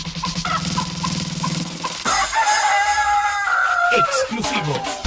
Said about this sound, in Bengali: আরে পান্ডা তো সত্যি সত্যি মুরগি হয়ে গেছে